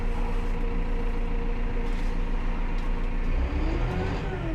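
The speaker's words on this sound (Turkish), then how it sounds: "Şuradan motor devrini de sabitleyebiliyoruz." A Massey Ferguson 5711 M Dyna4 tractor engine runs loud and close at steady high revs, a continuous dense drone that holds evenly, with no voices.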